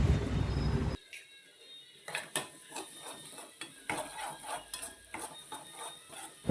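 A spoon scrapes and clinks steadily in a pan as egg is stirred into an onion-tomato masala, with repeated close scraping strokes after a brief louder sizzle at the start.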